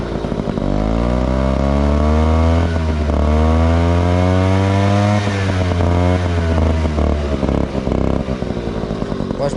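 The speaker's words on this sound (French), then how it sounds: "moi j'adore le son de ce petit pot, vraiment" A small engine fitted with a homemade racing exhaust pipe idles and revs loudly and close, its pitch climbing and falling with throttle blips in a raspy, buzzing drone that runs throughout.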